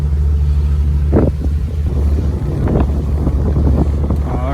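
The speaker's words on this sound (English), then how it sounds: "Alrighty, we are clear of the harbor. Let's throttle up and see what we got." A 2021 Sun Tracker Bass Buggy 16X pontoon boat motors out of a harbor, its engine a steady low drone under heavy wind buffeting on the microphone, with occasional splashes and knocks, and no talking.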